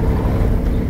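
Low, steady engine rumble of a 1956 Ford F-100 pickup truck driving, a brief constant drone with no voices.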